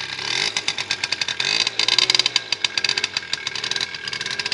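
A Karpaty moped engine is being started by hand and fails to catch, giving a loud, rapid buzzing engine sputter with irregular pulses that surges briefly before fading, with no talk.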